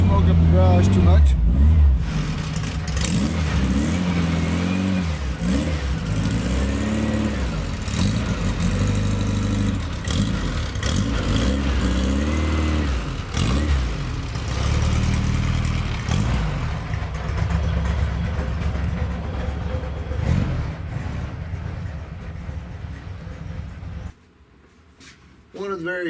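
A car engine idles and revs in an enclosed space, rumbling loudly with rises and falls, voices talking over it, then it cuts off near the end.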